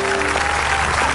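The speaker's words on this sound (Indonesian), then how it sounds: "Tepuk tangan buat Luna Maya," A studio audience on an Indonesian TV show claps for Luna Maya, a short, dense burst of applause that stays steady and fills the whole moment.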